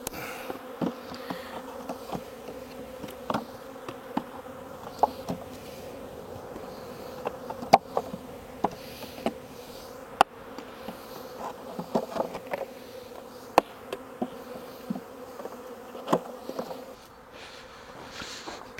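Honey bees buzzing around a hive in spring, a steady close humming drone with scattered clicks and taps from handling the hive.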